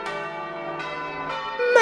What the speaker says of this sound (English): The church bells rang out over the city